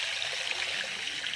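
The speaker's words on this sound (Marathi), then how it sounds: "आपण पाणी टाकूया नूडल्सच्या अंदाजानुसार." Water pours steadily into a hot kadai for noodles, making a dense, continuous splashing rush that stays close and loud throughout, with no voices.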